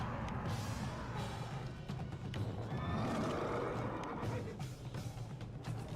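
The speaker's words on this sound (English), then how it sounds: "The sorcerer begins the fight by summoning 2 horse demons with a magic style." Two summoned horse demons neighing in a sorcerer fight from an original Xbox martial arts game, a loud whinny layered over steady game music and combat noise.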